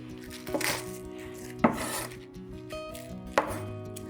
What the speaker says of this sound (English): The remaining scallions, chop them into green onions.